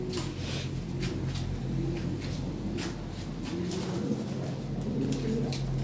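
Fancy pigeons, including white Lahore birds, coo steadily at a sale amid constant background noise, with faint clicks throughout.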